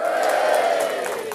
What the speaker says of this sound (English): we give a little bit of a cheer after each one, I think